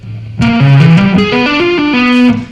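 Electric guitar with distortion plays both tapped string-skipping patterns back to back, a quick ascending run of about ten crisp, loud notes with a steady pulse that rises and then settles, with no voice over it.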